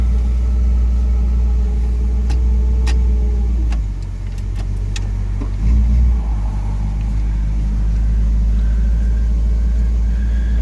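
A 1959 Pontiac Bonneville engine runs steadily after starting, a loud continuous low rumble with a brief dip and a small rev partway through, alone without talk.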